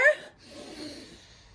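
Voice imitating a pig sniffing, with short quiet breathy sniffs and snorting through the nose, brief and close.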